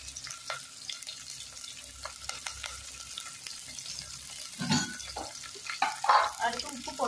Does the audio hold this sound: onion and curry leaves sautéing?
yes